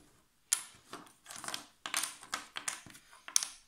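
Small magnetic game pieces for a children's game are flipped over on a table, giving a series of close, crisp clicks and light clattering taps in an irregular rhythm, with no talking.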